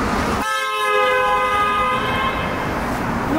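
A loud, sustained vehicle horn blares on a Japanese street, a steady multi-tone honk that starts abruptly and holds for about three seconds over background street noise.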